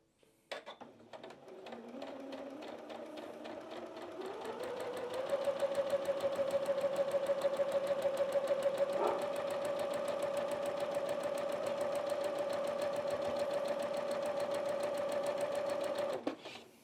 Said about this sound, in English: I'm going to sew it from this way.